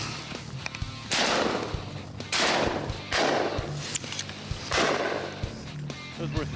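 Several loud shotgun blasts fired while waterfowl hunting at Devils Lake, North Dakota, each a sharp crack with a decaying tail, spaced roughly a second or two apart, close to the listener over quiet outdoor background.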